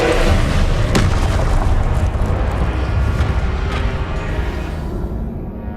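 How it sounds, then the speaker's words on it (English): Spell explosions in the video game Hogwarts Legacy make a loud, dense booming roar that continues throughout and fades slightly toward the end. "Stupefy! Incendio! Confringo!"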